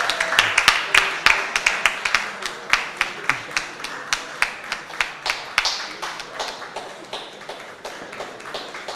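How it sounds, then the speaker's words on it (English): Audience clapping at a science and technology innovation challenge closing ceremony, starting as a loose patter and settling into a steady rhythmic beat of sharp claps that slowly thins out. "Let's keep clapping."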